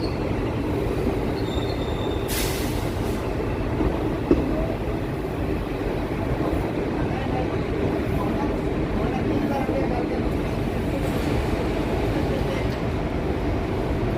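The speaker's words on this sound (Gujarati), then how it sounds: "આપણી ટ્રેનના બ્રેક્સ અપ્લાય થવા જઈ રહ્યા છે" An Indian passenger train on the Bhuj to Rajkot route slows under braking, giving a loud continuous rumble of wheels on rails with faint squeals, heard from inside a carriage.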